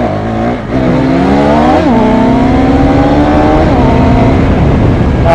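Motorcycles riding together toward a superbike launch event, including a Kawasaki Ninja ZX-10R, with a steady loud engine drone whose pitch rises and dips as the bikes shift and accelerate, close and continuous throughout.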